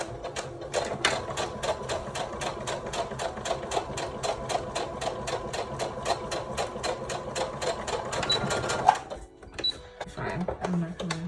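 Close stitching from a sewing machine working on a lace wedding dress, a fast rhythmic clatter running steadily for about nine seconds before cutting off, followed by brief handling noises and a voice speaking.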